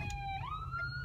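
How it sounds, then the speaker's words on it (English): Ambulance siren wails outdoors, its steady tones bending downward midway as the vehicle passes, moderately loud with no talking. "Stand by just a second here and let this ambulance pass."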